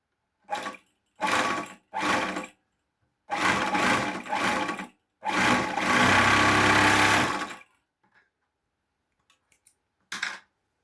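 A three-thread overlock sewing machine whirs in several short bursts, then one longer steady run, loud and close, with quiet gaps between.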